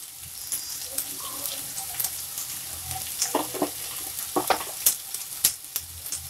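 Curry leaf sprigs crackle in hot oil in a pan for a Telugu dondakaya curry, giving a steady close sizzle marked by sharp irregular pops and spits that grow busier toward the end, with no talking.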